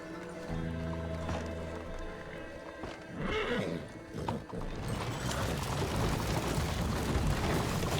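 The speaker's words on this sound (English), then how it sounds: "Poor horses." Horses neigh and whinny in Red Dead Redemption 2, with hoof clip-clops and mechanical rattling around them; a whinny stands out midway before a denser, noisier stretch follows.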